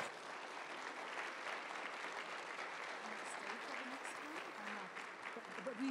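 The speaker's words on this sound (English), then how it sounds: "let's give them a round of applause" Audience applause fills a listening-lab session hall, a dense, steady wash of clapping from a crowd that holds evenly from start to finish with faint voices murmuring underneath.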